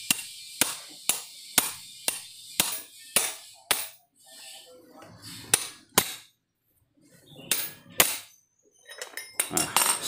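Sharp metallic blows from a hammer or socket wrench driving a part on a Yamaha Mio scooter's CVT, about a dozen close, loud strikes in a quick irregular series with short pauses and a faint scrape between them.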